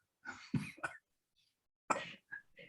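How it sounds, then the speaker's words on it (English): Several short throaty bursts in two clusters, like coughs and throat clearing, close to the microphone with a brief quiet gap between them. "Cough, cough."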